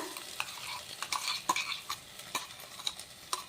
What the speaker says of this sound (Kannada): ಈಗ ಈ ಚಟ್ನಿ ಮಿಕ್ಸ್ ಮಾಡ್ಕೊಳ್ಳೋಣ